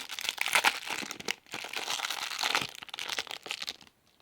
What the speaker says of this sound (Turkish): Öbür poşeti açalım.